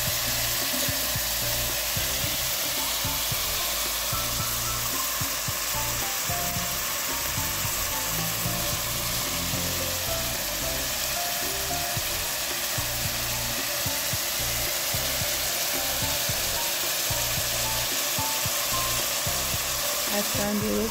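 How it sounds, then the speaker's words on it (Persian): Meat being sautéed in a pan for Persian fesenjan stew, giving a steady, continuous sizzle and crackle throughout with faint clattering, close and moderately loud. "گوشتی که بهش اضافه کردیم خود گوشتم باید تفت بدیم"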